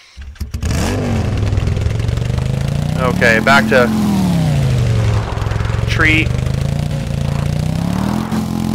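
Dirt bike engine in the video game Empyrion, a steady mid-pitched drone that swells and revs unevenly throughout, close and loud beneath someone talking.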